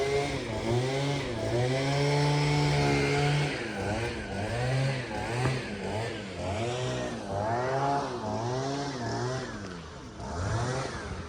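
Chainsaws cutting trees near Kruja Castle, Albania, whine and rev in repeated rising and falling bursts, loud and fairly close, with the engine pitch swooping as the saw bites and eases off.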